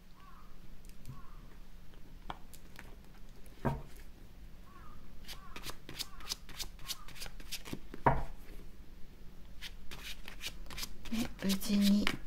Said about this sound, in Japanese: ちょっとカードを切ります。